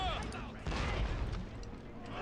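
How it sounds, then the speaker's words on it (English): Wooden cannons fire in a video game battle between infantry units, a dense rumble of distant booms and crackling shots rolling continuously under faint voices. "the wooden cannons are shooting at us from that distance"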